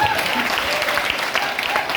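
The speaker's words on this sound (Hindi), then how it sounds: "जोरदार तालियां तकदीर वालों के लिए।" A crowd gives loud, dense applause at a business leadership speech event on 15 August, with a voice rising over the clapping.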